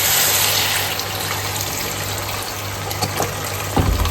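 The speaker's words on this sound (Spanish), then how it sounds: "Vale, yo tengo 1 litro de caldo. Le vamos a poner caldo" Steady, close gush of a liter of broth being poured into a pot of vegetables for stuffed peppers. The liquid splashes continuously, with a few small splashes near the end and no talk.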